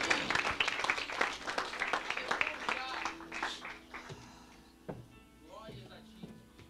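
A church congregation claps in praise, a brisk burst of hands that thins out after a few seconds; quiet and somewhat distant, with voices and a low hum underneath as it dies away.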